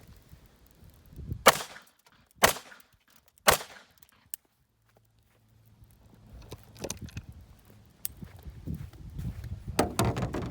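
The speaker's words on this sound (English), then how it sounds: "We fired 3 more shots and got 3 more center hits." Three sharp, loud gunshots from a Wilson Combat firearm strike a vehicle door target about a second apart, followed by quieter rustling, footsteps and clattering debris.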